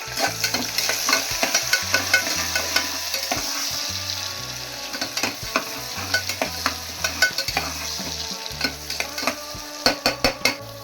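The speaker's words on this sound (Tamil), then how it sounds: "நல்லா வதக்கிக்கலாம் ஃப்ரெண்ட்ஸ்." Onions sizzling and sautéing in a pan for upma made with rice semolina, with a spoon scraping and stirring in repeated bursts over a steady frying hiss.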